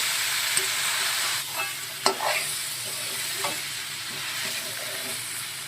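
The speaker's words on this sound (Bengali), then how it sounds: "আরেকটু সরষের তেল দিয়ে দেবো তারপরে ভালো করে কষিয়ে নেবো" Ghugni curry is sautéed in mustard oil, giving a continuous hissing sizzle broken by a few sharp spoon scrapes and taps against the pan.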